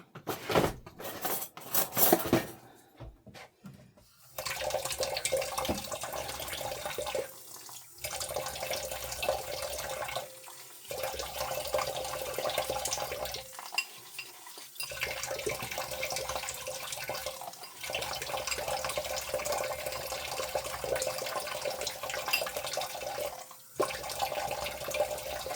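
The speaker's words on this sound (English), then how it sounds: "I'm going to add a little bit of water to this and stir it around." Tap water runs into onion soup mix for a pot roast, a steady hiss and splash broken by brief pauses, with light clinks of a utensil in the dish.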